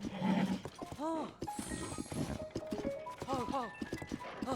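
Horse hooves clip-clop in The Legend of Zelda: Tears of the Kingdom, a steady trotting patter under a voice that talks and calls out through most of the stretch.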